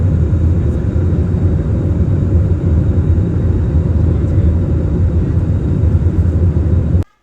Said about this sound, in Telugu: విమానం పోయేటప్పుడు విమానం లోపల సౌండ్ మాత్రం చాలా భయంకరంగా అయితే ఉంటుంది